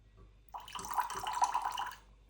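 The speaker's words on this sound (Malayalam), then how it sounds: "കുറച്ചൊരു വെള്ളം ഒഴിക്കാം." Water trickles steadily into a glass of Balvenie 12 year old Double Wood whisky, a close, soft pour lasting under two seconds after a brief quiet start.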